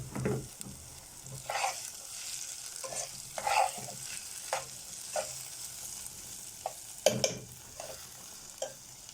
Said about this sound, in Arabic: البصل يا جماعة بدأ يدبل معانا بالشكل ده